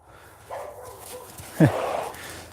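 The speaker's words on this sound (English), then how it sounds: "here comes the dog." A dog on a horse-training ground gives a short bark, a single sharp burst close by after a soft rustle, with a faint voice in the background.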